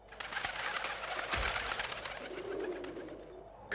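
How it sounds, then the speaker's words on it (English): Pigeons coo in the PlayStation video game Legend of Mulan: soft, low, rounded calls that come fairly close, with no speech over them. "Hey, stupid birds! Get out of here! Damn pigeons,"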